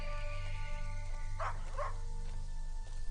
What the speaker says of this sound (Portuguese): E o nosso cachorro está aqui.